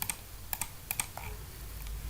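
Quick clicks of keys being typed on a computer keyboard to fill in a captcha, a few scattered taps close and fairly quiet over faint room hiss.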